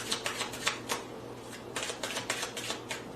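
A deck of playing cards being shuffled by a magician, a quick series of crisp riffling clicks in short bursts, close and fairly quiet, with no talk.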